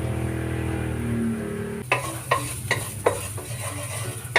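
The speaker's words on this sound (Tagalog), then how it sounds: "After the garlic, let's put the rice." Rice tipped into a pan of frying garlic sizzles steadily, with a run of sharp scraping stir strokes against the pan after the first couple of seconds.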